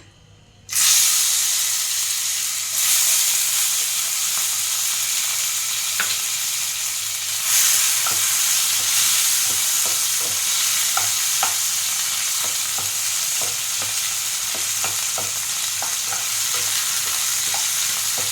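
Tomatoes fry in a hot pan with black cumin, a continuous bright sizzle that jumps up as they go in, overlaid by repeated scraping stir strokes, with no one talking.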